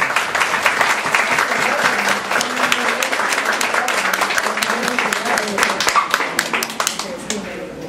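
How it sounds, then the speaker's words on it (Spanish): Congregation in a church service claps for the Lord, a dense, steady wash of applause lasting several seconds with voices mixed in underneath. "Dale un aplauso al Señor."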